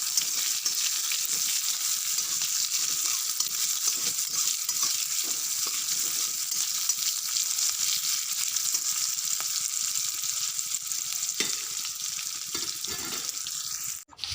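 Chopped onions fry in hot mustard oil with popped mustard seeds, a bright steady sizzle close by that carries on throughout, with faint occasional stirring taps and scrapes and no talking.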